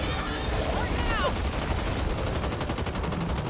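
Rapid automatic gunfire rattles continuously in the video game Back 4 Blood, a dense, steady burst of shots with a voice speaking briefly over the top.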